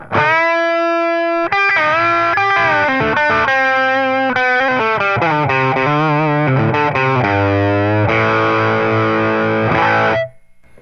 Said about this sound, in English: Sounds like an overdriven amp that's pushed into like meltdown phase.